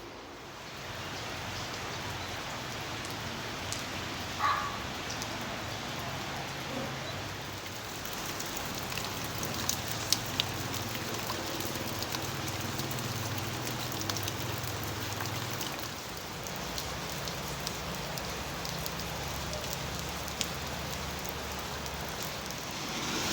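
Rain falls steadily and evenly throughout, a dense continuous patter with a few sharper drop hits scattered across it. There is no talking.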